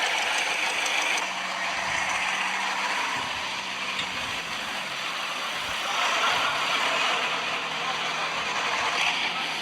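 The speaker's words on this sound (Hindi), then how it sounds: "लो भाई ट्रैक्टर को लेके आ लिए खेत में" A Swaraj tractor engine runs steadily in a farm field, a continuous close diesel rumble with a faint knocking rattle and no clear changes in pace.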